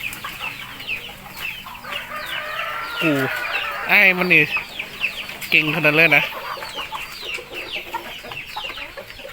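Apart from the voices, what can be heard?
chickens clucking on a farm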